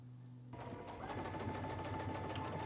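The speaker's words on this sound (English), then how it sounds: "fold the pocket along the marked mid-thread corner line with right sides together and stitch along the marked diagonal stitching line" Sewing machine stitches a pant pocket corner along a diagonal line, a steady close rapid mechanical whirring hum that starts abruptly and runs continuously without talk.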